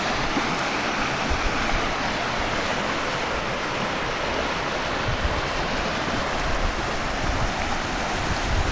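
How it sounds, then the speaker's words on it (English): A shallow river flows steadily over stones at Glenshee in the Scottish Highlands, giving a constant, full rush of water that stays close and even throughout with no voices. "most of the rivers we came across were shallow like that"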